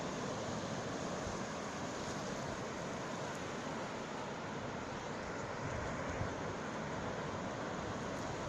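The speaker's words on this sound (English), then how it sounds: "Some waves here." Ocean surf breaking at the shore of a cold-water surf beach, a steady, dense roar of waves with wind buffeting across the microphone throughout.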